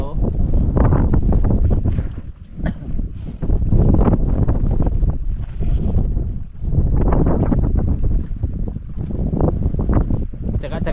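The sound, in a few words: strong amihan wind at sea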